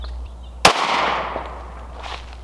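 A single sharp, loud gunshot from a Glock 30 pistol firing a .45 Hornady expanding bullet, close by, with a short ringing decay after the crack.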